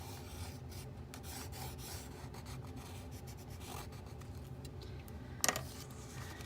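Pencil sketching and doodling around the outer edges of Valentine cards, a soft continuous scratchy rasp of graphite on paper, close and steady throughout with one brief sharper tap near the end.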